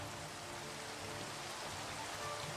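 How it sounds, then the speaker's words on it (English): Rainfall in a building video game, a continuous soft hiss of rain on surfaces, steady and fairly quiet throughout. "Oh, and it's raining."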